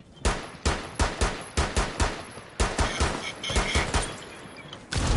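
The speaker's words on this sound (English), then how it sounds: "Dude, he's shooting at me." Video game gunfire cracks out in loud, close, rapid shots, about a dozen evenly spaced bursts followed by a denser clattering volley and a final shot, with no talking.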